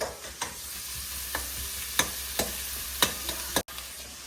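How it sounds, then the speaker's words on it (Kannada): Onions fry in a pan toward golden brown with a constant soft sizzle, punctuated by several distinct scraping clicks of a spoon stirring against the pan at irregular intervals. "ಇವಾಗ ಆನಿಯನ್ನ ಚೆನ್ನಾಗಿ ಫ್ರೈ ಮಾಡ್ಕೊಳ್ಳಿ ಗೋಲ್ಡನ್ ಕಲರ್ ಬರಬೇಕು"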